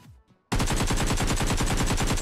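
In PUBG Mobile, sustained automatic gunfire erupts after a brief quiet opening, a loud, rapid, evenly spaced burst of shots that continues without pause.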